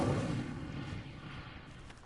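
The Incendio fire spell is cast in Hogwarts Legacy: a deep burst of flame opens loud and rumbling, then decays into a fading, crackling roar over about two seconds.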